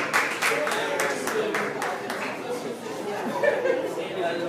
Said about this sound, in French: Applaudis, applaudis, applaudis